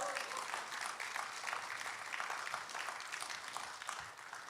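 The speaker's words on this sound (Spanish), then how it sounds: "Hacerle un aplauso al Señor" A church congregation claps for the Lord in a dense, even patter of many hands, fairly faint and distant, with voices mixed underneath.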